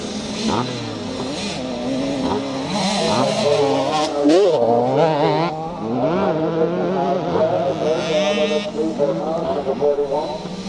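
Vintage KTM and other motorcycles climb a hill at a classic charity scramble race in Northern Ireland, engines revving loud and rising and falling in pitch as they pass, with a commentator talking over them.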